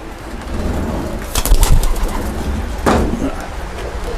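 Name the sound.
racing pigeons cooing in loft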